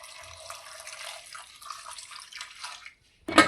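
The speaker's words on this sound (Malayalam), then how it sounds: "വെള്ളം ഒഴിക്കാം ആവശ്യത്തിന് ഇച്ചിരിയും കൂടെ ഒഴിക്കാം" Water poured into a pressure cooker in a home kitchen, a steady splashing stream for about three seconds that stops abruptly, followed by a brief sharp clatter.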